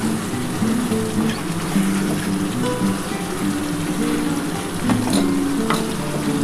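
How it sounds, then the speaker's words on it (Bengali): Chicken cooked with sour yogurt and garam masala bubbles and sizzles steadily in a pan, a moderate, even frying noise with faint scrapes throughout. "একটুখানি এই গরম মশলাটা দিলাম ভালো করে কষিয়ে নিয়ে আমি ঢাকা দিয়ে দেবো"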